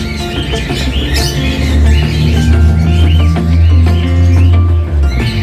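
Cockatiels and their chicks in an aviary: a loud, busy mix of overlapping chirps and squawks, with a low hum in the background and no speech.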